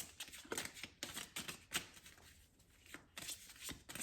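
Oracle cards being shuffled and drawn by hand, a close, quiet run of soft riffling bursts and card flicks with brief pauses between them.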